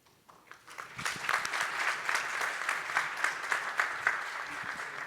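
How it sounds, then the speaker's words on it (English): A room full of people at a startup showcase applauds, steady clapping rising quickly and holding at moderate volume. "I think these guys deserve another round of applause, please."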